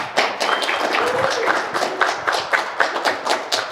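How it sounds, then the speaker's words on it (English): Applause from an audience welcoming a presenter at a Jira Service Management talk, a steady patter of clapping with a few sharper individual claps standing out, fairly close and continuous throughout. "Big applause for Lisa, please."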